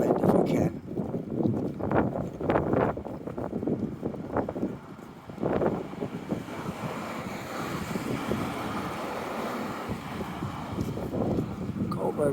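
Strong wind buffets the microphone outdoors in continuous loud gusts and rumbling bursts while someone walks through a city, briefly easing before roaring again; a person talks under the noise at times.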